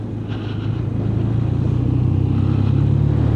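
A 2026 BMW R12 GS motorcycle engine drones steadily close by, its low throbbing note rising as it shifts smoothly through the gears with a quick shifter, with wind noise on top.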